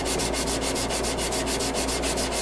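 Hand file stroking back and forth across a steel knife blade to cut the bevels, a steady rhythmic rasping with evenly spaced strokes, close and loud with no voices.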